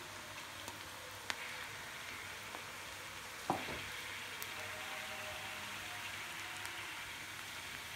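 Onion pakoda frying in a pan of hot oil, giving a steady, soft sizzling hiss with occasional faint pops and one sharper crackle, heard alone without talk.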